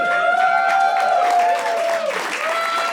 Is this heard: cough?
no